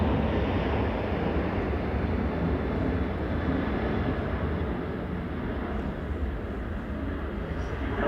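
A Ryanair airliner taxis at Manchester Airport, a steady broad jet rumble and roar held at a distance under outdoor wind noise, constant throughout.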